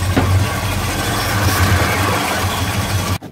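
A 1953 Chevy pickup, off the road for 26 years, runs roughly after its carburetor bowl is refilled, a steady low engine rumble with vibration that cuts off abruptly near the end.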